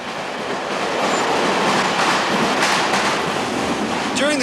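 A train runs along a railway line in Malaysia, its rolling wheel rumble and rhythmic clickety-clack steady throughout, with a brief high wheel squeal near the end.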